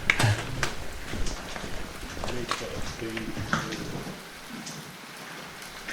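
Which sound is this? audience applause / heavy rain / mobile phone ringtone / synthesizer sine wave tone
heavy rain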